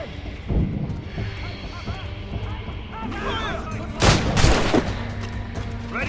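Naval combat in Assassin's Creed Rogue, with scattered musket shots and booming cannon blasts, a heavy cluster of loud reports near the end, and shouting crew voices in between.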